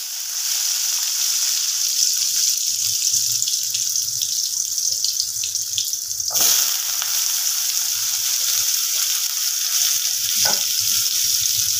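Potatoes frying with nigella seeds in a hot pan for a bottle gourd greens dish, a steady close sizzle throughout with a brief louder burst of crackle midway.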